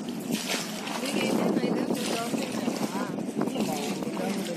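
Small three-person boat gliding on water beneath the ECR bridge at Muttukadu in Chennai, with sloshing and splashing heard under continuous conversation.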